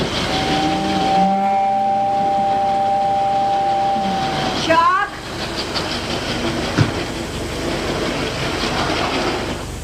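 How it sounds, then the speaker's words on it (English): A 1959 A. C. Gilbert toy electric train hums and clatters along its track, with a long steady whistle-like tone early on and a brief warbling sound midway. "You're supposed to be running the vacuum sweeper, not Tammy's train."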